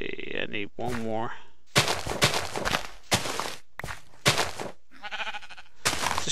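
Minecraft sheep bleating among game effects, with wavering bleats near the start and again later, broken up by sharp repeated thumps and clicks of block placing and footsteps.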